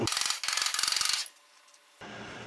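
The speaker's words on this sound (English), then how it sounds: "I'm gonna put my spoon into here and see if we can flatten this out a bit" A body spoon worked against the sheet-metal hood of a 1929 Model A sedan, a rapid series of sharp metallic taps and scraping rasps, close and clear, then a brief hush before low background noise returns.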